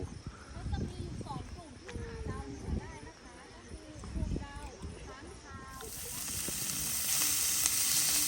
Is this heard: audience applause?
no